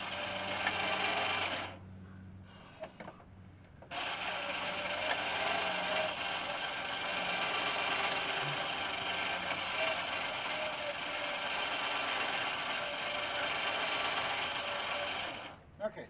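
A truck winch whirs in a steady mechanical drone with a high whine, stopping briefly near the start before running on evenly, close by, with a voice heard now and then.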